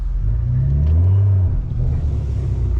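A tuned BMW M340i with a downpipe revs its exhaust nearby, a deep, loud, booming rumble that swells and holds, then settles into a lower idle-like growl.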